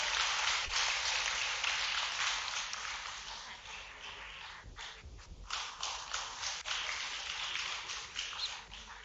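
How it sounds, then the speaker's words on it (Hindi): Sustained applause from a large crowd at a government ceremony where land leases are handed to homeless residents, steady and dense for about nine seconds with a brief dip midway. "तालियां बजती रहनी चाहिए।"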